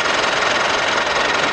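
A 2016 Mitsubishi Pajero Sport Dakar diesel engine idles steadily, a dense, continuous rumble with a faint knocking texture held at constant level throughout, close up with no voices.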